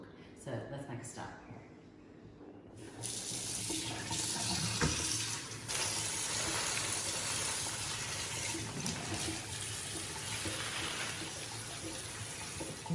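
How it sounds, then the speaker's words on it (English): Tap water running steadily into a trough for washing greens, a continuous loud rushing splash that starts after a quieter opening and fills the rest of the clip. "You need to fill your trough up enough so that there's actually a volume of water between the base of your trough and the base of your veggies"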